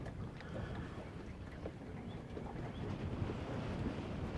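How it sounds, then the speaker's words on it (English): Wind gusting across the deck of a fishing boat, a low, rumbling rush of air buffeting the microphone that builds slightly and keeps going. "Wind picks up as soon as I get on the deck."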